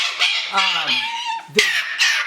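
Harsh, screechy squawks from a large cockatoo, several rough calls in quick succession, loud and close with a brief click in between.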